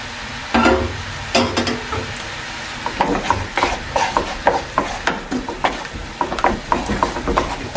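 Thick sauce with shrimp and onion bubbles, reduces and sizzles in a pan while a utensil stirs and scrapes it in repeated, uneven strokes, close and fairly loud.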